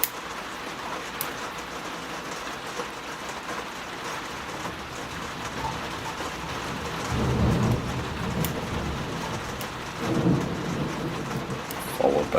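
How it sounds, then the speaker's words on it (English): Steady rain falls throughout, with rumbles of thunder swelling up twice, near and fairly loud, and nobody speaking. "Followed by thunder."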